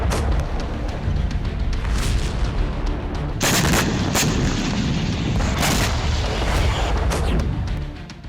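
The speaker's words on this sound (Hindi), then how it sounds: "अमेरिकी हाइमार्स रॉकेट सिस्टम विस्फोटक हमले में तहस नहस।" Loud, continuous barrage of explosions and gunfire in a combat attack on a US HIMARS rocket system, with dense booms and bursts running steadily throughout and sharper blasts standing out near the middle.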